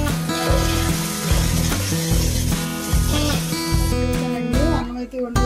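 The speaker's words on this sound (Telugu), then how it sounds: "ఉల్లిపాయ పచ్చిమిరపకాయలు అయితే వేస్తూ ఉన్నానండి." Onions and green chilies fry in a pan for a curry, a steady sizzle partly buried under loud background music.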